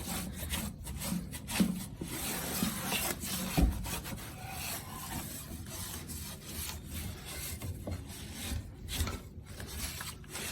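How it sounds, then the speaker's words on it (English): A wet cloth wiped over a freshly sanded wooden rocking chair, producing rhythmic rubbing and scrubbing strokes with occasional soft knocks, close and quiet, with no talking. "now I'm just wiping it down with a wet cloth."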